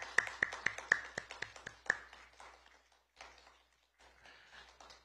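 A short burst of scattered claps from a small audience at a political party press event announcing youth housing policy, a few sharp irregular hand claps close by that thin out and fade into quiet room noise.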